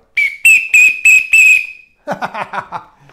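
Five sharp, shrill whistle blasts in quick succession, loud and close, followed by a brief burst of lower, warbling vocal-like sounds.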